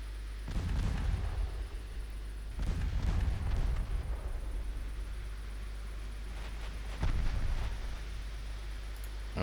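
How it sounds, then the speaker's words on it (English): Heavy naval guns of the battleship Amagi firing armor-piercing shells in Ultimate Admiral Dreadnoughts, three deep booming salvos spaced a few seconds apart, each rumbling and decaying, with no voices. "The Amagi is still electing to fire AP."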